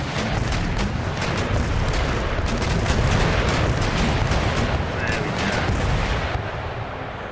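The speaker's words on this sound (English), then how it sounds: "Round shot." Round shot artillery firing in the video game Empire: Total War, a rapid barrage of booming cannon and musket shots, loud and continuous across the battle, easing slightly near the end, with a voice faintly present.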